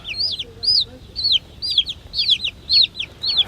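Chickens in a poultry house, with repeated high chirps and clucks at a steady rhythm, fairly near and alone over a low hum of the house.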